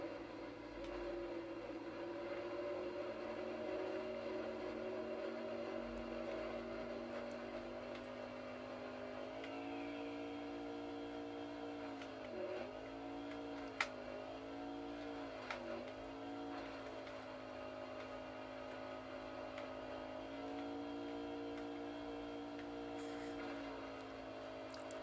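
Engine of a vehicle droning on a dirt track in MX vs ATV, a steady buzzing tone that holds, then dips and rises in several quick revving swoops before settling, with a faint click partway through.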